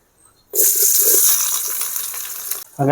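Chopped onions hit hot oil with cardamom, cinnamon and cloves for a prawn kurma, setting off a sudden loud, bright sizzle that holds for about two seconds before cutting off, followed by a brief bump.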